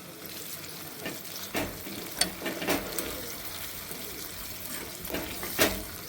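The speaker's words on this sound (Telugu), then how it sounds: "ఇప్పుడు బాగా ఫ్రై చేసుకుందామండి తాలింపును." Coarsely crushed garlic, dried red chillies and curry leaves fry in hot oil as a tempering for pappu charu, giving a steady crackling sizzle broken by sharp clinks of a stirring spoon against the pan.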